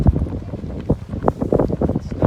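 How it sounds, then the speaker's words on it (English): Strong wind buffeting the microphone on a desert golf course, with loud, gusty rumbling and low-frequency flutter all through, close and unbroken. "Oh, wind is really picking up."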